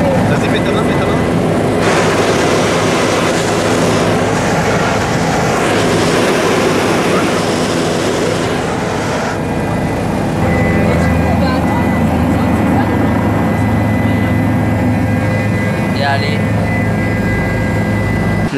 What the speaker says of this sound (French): on vient de terminer notre petit tour d'hélicoptère